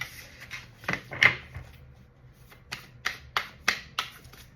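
Large oracle cards are shuffled in a series of short, crisp riffling bursts with pauses between them, heard close and without talk.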